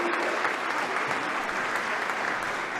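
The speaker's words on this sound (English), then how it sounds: "And a generous round of applause from the big crowds here in Páirc Tailteann for Anya." Big crowd applauding at a Gaelic football match at Páirc Tailteann, a steady wash of clapping that holds evenly throughout without a break.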